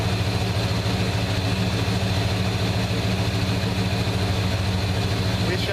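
A Chevrolet Suburban engine runs at a steady idle, a loud continuous low rumble with an even pulse and no change in pitch throughout, while a person talks over it.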